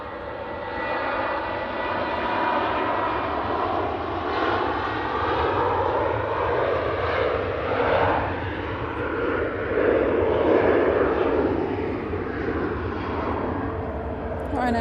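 A Ryanair Boeing 737 roars past at Manchester Airport, its jet engine noise a steady, loud broadband rumble with a slowly shifting whine as the plane passes, sustained throughout.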